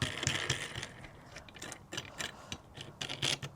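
A metal corner clamp ratchets tight on an Adventura CRV campervan window, giving a steady run of close, sharp clicking and grinding ratchet strokes in quick uneven rhythm, with no talking.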